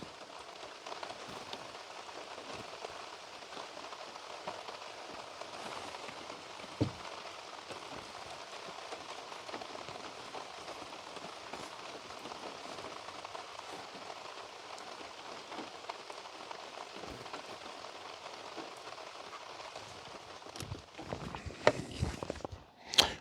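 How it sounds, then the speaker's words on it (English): Steady rain patters on a surface at a campsite throughout, with a few sharper drips and some louder knocks and rustles near the end. "it's still raining-ish a little bit"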